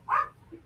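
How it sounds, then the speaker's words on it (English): A single short dog bark, sharp and fairly close, heard during a live comedy club show with no talk over it. "just a dog barking"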